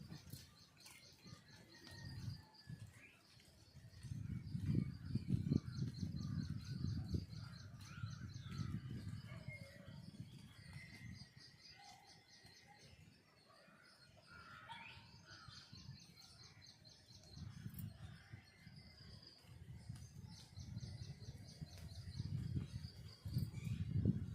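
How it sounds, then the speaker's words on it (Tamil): Sparrows chirp outdoors beside a large neem tree, thin scattered calls over a breezy background, with soft rustling and low gusts of wind swelling and fading throughout. "குருவி சவுண்டு எப்படி கத்துது பாருங்க"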